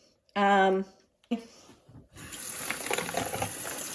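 Tap water runs over an Instant Pot part being rinsed in a kitchen sink, a steady splashing gush that starts after a brief voice and continues to the end.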